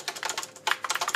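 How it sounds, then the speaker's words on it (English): Fast typing on an Azio mechanical keyboard with typewriter-style keys: a quick run of crisp, close clicks, with a brief pause midway. "like here's an Azio keyboard"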